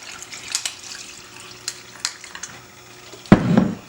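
Coconut milk, blended smooth, is poured onto iced cold brew coffee, giving a liquid splash and trickle among soft clinks of ice, ending in a brief fuller pour.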